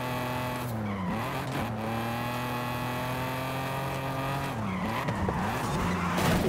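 An old Datsun skids along a touge mountain road in Forza Horizon 5, engine revving in rising and falling sweeps as tires squeal through the corners.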